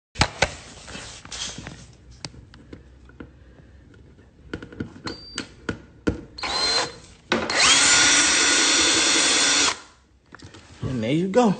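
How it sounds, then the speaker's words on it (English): Power drill driving a screw to mount a car underglow light tube: scattered clicks and handling noises, then a short whir and a sustained loud drill burst of about two seconds, with a voice briefly heard at the end. "With the drill, you drilled it in."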